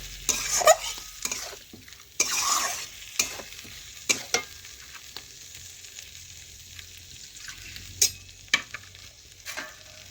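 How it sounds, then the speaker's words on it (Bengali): Cashew and poppy seed paste is stirred into chicken in a pan, a faint low simmer broken by scattered scrapes and knocks of a spoon against the vessel. Strokes come in short, uneven bursts. "এখন আমি দিচ্ছি কাজু বাদাম ও পোস্ত বাটা। দেখুন ভালোভাবে এটাও নাড়াচাড়া করে মিশিয়ে নিচ্ছি।"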